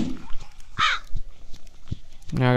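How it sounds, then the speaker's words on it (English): Crows caw in the video game The Last Dead End: two harsh, loud calls, one near the start and one at the end, with soft thuds in between and no talking. "I really don't know why they added the crows"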